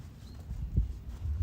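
Hooves of a ridden horse thud softly on the ground in a few irregular steps as it stops, backs up and turns during a roll back exercise, close and fairly quiet with no talk.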